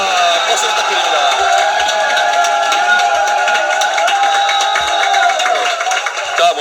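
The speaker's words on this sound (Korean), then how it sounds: "박수 부탁드립니다." A youth committee launch event crowd sustains steady applause and cheering throughout, loud and dense, with a few scattered whoops rising above the clapping.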